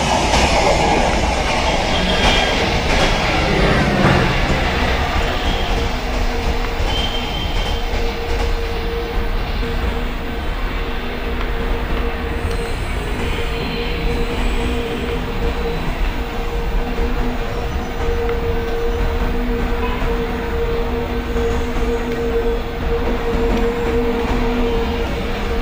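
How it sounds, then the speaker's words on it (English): Superfast express train overtaking alongside in Microsoft Train Simulator on an Indian passenger route, a steady loud rumble of wheels and rail clatter with a sustained hum, continuous throughout with no talking. "It's a train number 12555, Karakatam Superfast Express is overtaking our train."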